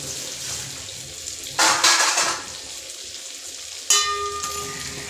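Egg masala frying in a pan, with bursts of loud sizzling hiss that flare up twice over a quieter background.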